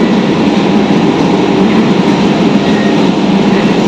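A Kolkata Metro train runs between the Kabi Subhash and Ruby stations, making a steady, loud rumble with broadband rail noise. The roar holds for the whole stretch with no speech.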